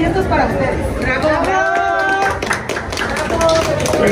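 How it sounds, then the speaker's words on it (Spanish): Audience clapping at a first-anniversary celebration for a Mexican handmade bags, purses and hats business, close and lively, mixed with crowd chatter and a few voices. "Fuerte, fuerte el aplauso"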